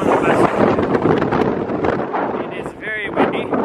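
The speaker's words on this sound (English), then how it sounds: "It is very windy" Strong wind in Reykjavik, Iceland, roars across the microphone as a loud, steady buffeting rumble, and a person speaks briefly over it near the end.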